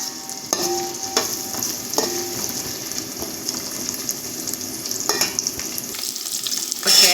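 Vegetables sautéing in a pan for chicken fried rice give a steady, fairly loud sizzle and fry, with occasional scrapes and stirs and no talking.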